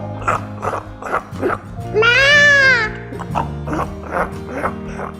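A single wavering, high-pitched bleat from a small goat drinking water rises over a steady background of rhythmic clicks and soft voices, loud and close.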